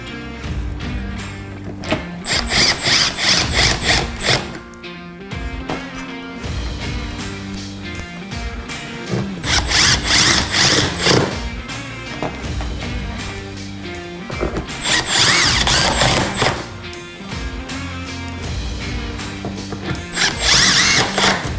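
A power drill reinstalls four screws on the LED third brake light unit of a 2023 Super Duty truck, with repeated loud whirring bursts that stand out from a dense, steady background.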